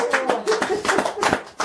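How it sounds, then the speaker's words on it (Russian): Applause at an adult birthday party at home: a few people clap in a brisk, uneven rhythm close by, with voices mixed in among the claps. "Аплодисменты."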